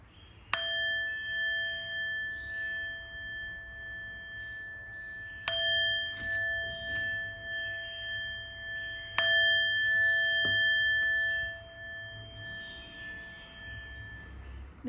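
A small old Japanese bronze meditation bell, about 9 cm across and shallow, struck three times with long pure ringing tones that sustain and decay slowly between strikes, close and clear.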